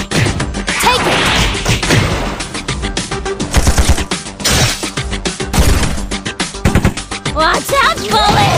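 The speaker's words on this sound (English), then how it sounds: "Watch out, bullets!" Rapid volleys of bullets and heavy impacts in the Android idle RPG Chaos Mecha, loud and relentless, mixed with thuds, game effects and occasional short voiced exclamations.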